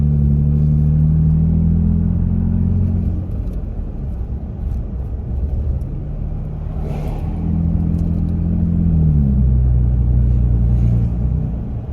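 A Toyota Tacoma pickup with dual exhaust drives along, its deep, loud exhaust rumble droning close up, easing off as it slows and then swelling again as it accelerates.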